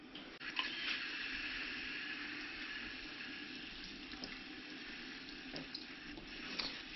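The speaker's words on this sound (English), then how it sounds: "All right, I'm gonna get some more water." Water poured steadily into a tote worm bin for African night crawlers, a continuous soft, close trickle and splash lasting several seconds with a few small drips and gurgles.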